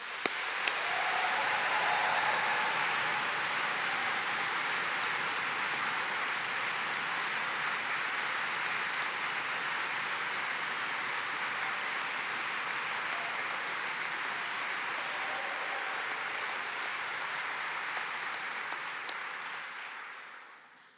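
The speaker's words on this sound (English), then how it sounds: "So let's have a little bit of applause for quite how wonderful you are." A graduation ceremony audience fills a hall with sustained, dense applause that starts abruptly, holds steady and loud for about twenty seconds, then fades out at the end, with no talking over it.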